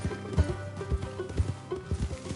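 Horse hooves clip-clop at a steady walking rhythm in a Red Dead Redemption 2 story sequence, close and distinct over soft game ambience and music.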